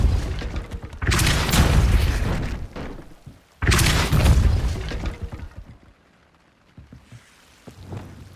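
A Depulso spell cast in Hogwarts Legacy: two loud, broad whooshing bursts, each about two and a half seconds long, separated by a brief gap, then fading to a quiet tail with faint low rumbles.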